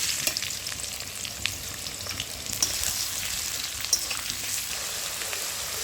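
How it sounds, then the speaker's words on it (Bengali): Chopped onions sizzle in hot oil with a bay leaf, dried red chillies and whole garam masala for chicken kosha, a constant close frying hiss with occasional sharp pops and crackles, no talking. "এরপর আমি কুচিয়ে রাখা পেঁয়াজ দিয়ে দেবো।"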